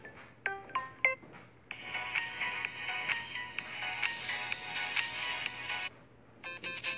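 A Gamer Sounds ringtone plays on a Samsung Galaxy S7, opening with a few short bright tones before a dense, sustained melodic burst runs for about four seconds, then a brief pause and a new start of the tune.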